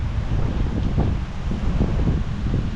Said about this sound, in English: it's definitely a windy day today